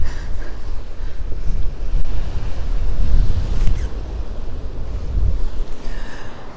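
Surf and gusting wind on Peguera beach in Mallorca on a chilly January afternoon, a steady rumbling wash of waves mixed with buffeting wind on the microphone and no speech.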